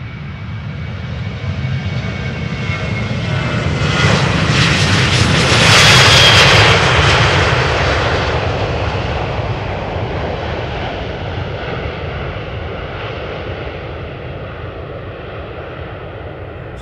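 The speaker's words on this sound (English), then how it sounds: "So this 737 outbound to Helsinki in Finland." A Boeing 737 departs runway 36L at Amsterdam Schiphol, its jet roar building to a loud peak as it passes close, then fading into a long, steady rumble as it climbs away.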